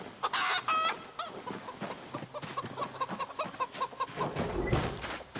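Farm chickens in the survival game Project Zomboid cluck repeatedly in short, uneven bursts, close and fairly quiet, with a brief crow-like squawk near the start and a soft low thump toward the end.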